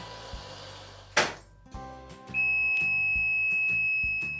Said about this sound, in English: The washing machine just beeped